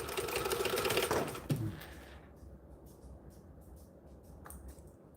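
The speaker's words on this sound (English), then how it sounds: "Fine, I'll sew slowly." A sewing machine stitches through fringed fabric, a fast whirring run for about a second and a half before slowing, then fading to a faint quiet hum with light clicks.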